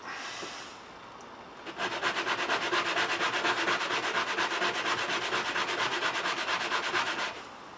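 Scotch-Brite pad scrubbing gunk off a part from a 1987 Honda CR250 motorcycle, a fast rhythmic abrasive rubbing that starts sharply and continues steadily for several seconds, close and fairly loud, with no talking.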